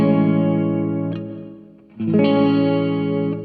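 Guitar chords played through the room setting of a TC Electronic Hall of Fame 2 reverb pedal, imitating a small empty apartment: two strummed chords with a short, tight ambience, the first fading before the second rings out loudly, no voices.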